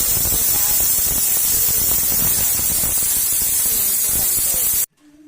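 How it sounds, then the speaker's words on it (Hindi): A pressure cooker cooking whole brown lentils (sabut masoor dal) lets out a loud, continuous hiss of steam, close and unbroken, before it cuts off abruptly into near silence. "अब प्रेशर कुकर को हम बंद कर देंगे 25 मिनट के लिए।"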